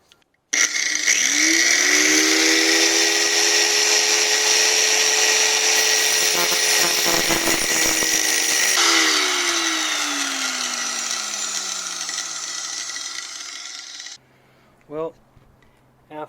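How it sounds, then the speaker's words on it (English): An angle grinder works on the supercharger pulley of a Mini Cooper S, a loud, steady high-pitched whine for about fourteen seconds that slowly drops in pitch as it spins down, followed by a few brief clanks. "I'm going to go ahead and start grinding away."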